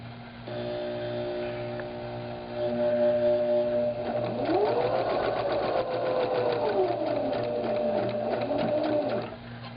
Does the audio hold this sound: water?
no